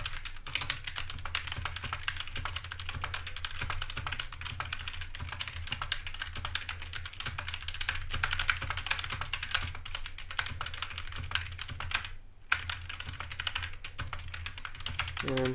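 Continuous fast keystrokes on a 60% mechanical keyboard fitted with rubber O-rings, close and fairly loud, with a brief pause near the end before the typing resumes.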